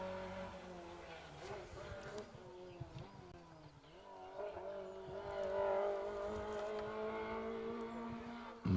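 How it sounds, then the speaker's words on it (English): Rally car engine straining at high revs while climbing a hill on a closed stage of the Manx Rally, a steady droning roar with shifting pitch heard from a distance and building slightly toward the end. "Maximum revs going up the hill there."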